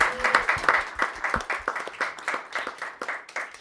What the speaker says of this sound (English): Let's give a round of applause for that truth right there.